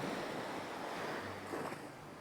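Mellow waves washing onto sheltered Chaweng Beach on Koh Samui, Thailand, a steady soft surf hiss with a faint swell, mixed with light wind rumble on the microphone.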